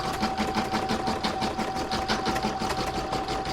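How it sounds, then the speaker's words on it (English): An embroidery sewing machine stitches a snowman coaster design in white thread, a fast, even, close-up needle rhythm that runs steadily throughout with a faint constant hum. "I'm now going to pop that back in my machine and stitch round number 13"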